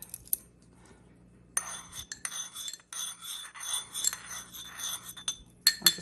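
A utensil swirls calcium chloride and rennet solution in a glass for home cheddar making, a steady run of close, bright clinking and scraping against the glass for several seconds, starting and stopping in short bursts.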